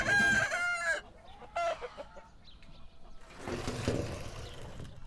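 On a farm by a chicken coop, a rooster crows loudly and close, then a flock of chickens clucks and squawks in a busy burst.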